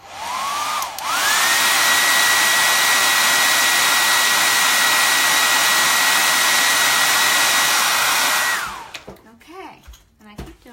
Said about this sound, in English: I keep blow drying my little carrier sheets